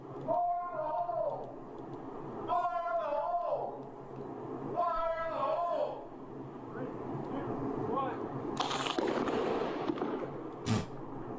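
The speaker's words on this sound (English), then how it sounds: "That's a firework, man." A firework bursts with a sharp crack near the end, followed by a second loud pop, after stretches of talking voices and background noise.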